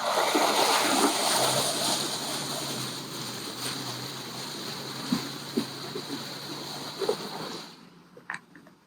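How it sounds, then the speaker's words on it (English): A Land Rover pushes through a deep creek water crossing at Charlies Creek, giving a loud, steady wash of churning, splashing water that gradually fades, with a few sharper splashes near the end. "this is a water crossing that's like a little bit deep"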